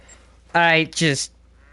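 Two loud, nasal quacks in quick succession, close by, standing alone against a quiet outdoor background.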